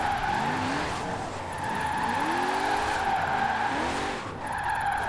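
A 1970 Buick GSX in Forza Horizon 4 drives on a race line, its engine droning steadily while tires squeal and skid in repeated sliding bursts, loud and continuous throughout.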